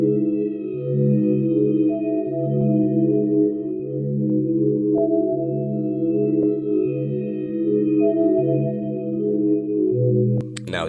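A dark ambient synth preset in a bowed-string style, processed with reverb, delay, EQ and phaser: soft sustained layered tones that glide between pitches, played alone with no voices.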